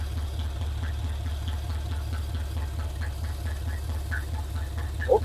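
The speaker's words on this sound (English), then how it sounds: "the engine sounds kind of like it's not knocking or anything" A 1980 Chevrolet C/10 Cheyenne square-body truck idles at first start, a steady low rumbling engine drone with even pulsing and faint ticks on top, close and continuous throughout.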